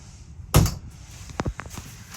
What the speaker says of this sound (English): Open the bathroom door here.